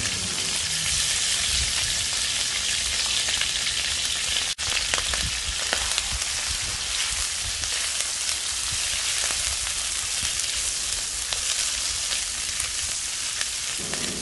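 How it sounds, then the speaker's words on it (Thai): Parboiled pork liver hits hot oil in a pan and fries with a loud, dense, continuous sizzle, rain-like hiss with scattered pops and one brief sharp knock partway through, no voices. "น้ำมันเริ่มร้อนเราก็ใส่ตับที่เราลวกจนสุกแล้วลงไปค่ะ"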